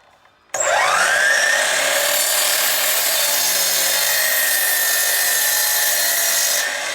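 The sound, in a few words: saw cutting a 45-degree mitered edge on a wooden 2x3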